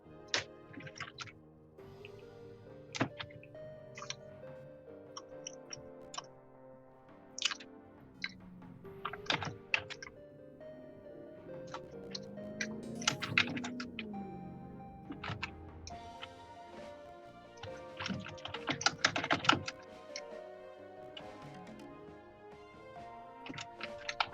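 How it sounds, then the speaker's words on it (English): Clicks of a computer keyboard being typed on during an online Hero's Hour tournament match, an irregular run of sharp close taps and ticks scattered over a quiet background with faint tonal game sounds. "Yes, that's his keyboard, by the way."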